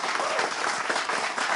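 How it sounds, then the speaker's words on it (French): A studio audience on a television show breaks into brief, dense applause, a continuous wash of clapping from many hands lasting under two seconds. "Ça s'applaudit."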